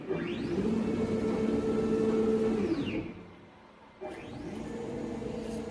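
CNC router gantry making a free rapid traverse at 10,000 mm per minute, its stepper motors whining in a steady sustained tone with rising and falling pitch sweeps as it speeds up and slows, a brief quiet pause, then moving again.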